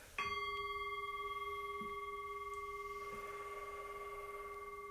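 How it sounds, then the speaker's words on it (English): A singing bowl is struck once and rings on alone in a quiet room, its clear sustained tones shimmering and slowly decaying after a sharp initial strike. "So we conclude with ringing the singing bowl"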